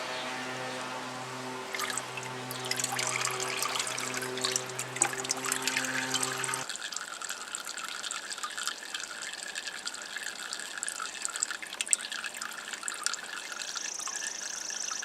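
Elderberry juice drains from hanging crushed berries into a bucket in a steady, continuous trickle. A low droning hum sits under it during the first half.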